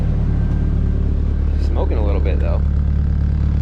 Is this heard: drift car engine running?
yes